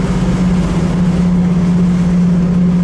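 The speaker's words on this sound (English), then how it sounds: "Is a considerable amount of wind noise" Steady wind roar fills the cabin of an all-original 1969 Chevrolet Camaro with a numbers-matching 307 engine, cruising on the open road, with a low engine drone underneath throughout.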